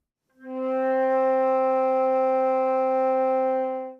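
A flute sounds a single first-octave C, one pure, steady note that swells in and holds for several seconds before easing off, alone and close.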